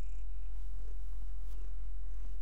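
Patty, a pet cat, purrs up close in a steady, continuous low rumble that fills the short stretch without a break, with no voices over it.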